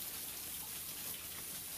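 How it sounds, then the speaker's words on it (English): Rain falling outdoors on a drizzly day, a soft, steady hiss of drops that stays faint and even, with no voices. "It's raining"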